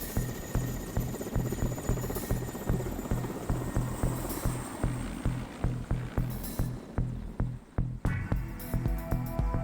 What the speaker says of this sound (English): We board another leftover of the Soviet war machine, an Mi-8 helicopter.